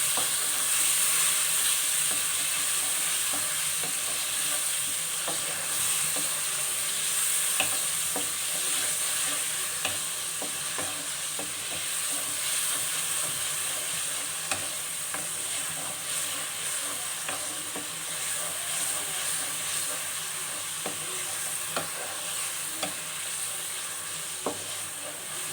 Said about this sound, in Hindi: इसको सौते करेंगे, यानी अच्छे तरीके से भून लेंगे लहसुन अदरक को भी।